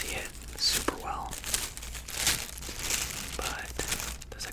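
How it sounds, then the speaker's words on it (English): Plasticky special paper from a shoe box is crinkled and rustled close up in soft, irregular bursts, with quiet whispering mixed in. "The paper's also like it's a different material. It feels more plasticky than it does like papery"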